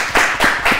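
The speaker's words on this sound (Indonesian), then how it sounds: "Tepuk tangan dulu dong." Three loud, close claps land in quick succession, evenly spaced and sharp, with no voices over them.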